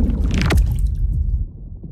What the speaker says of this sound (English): The types of objects that you use to skim across the water will also drastically change the characteristic of the whoosh